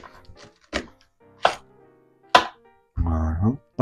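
A knife chops the end off a leek on a cutting board: three sharp, separate thunks, then a brief voice.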